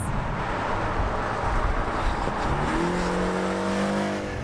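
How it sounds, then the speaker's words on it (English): A 2020 Porsche 718 Cayman engine revs up and climbs steadily in pitch under heavy road and wind rumble, heard from inside the moving car on the highway. "it will also help you demonstrate just how capable this engine is"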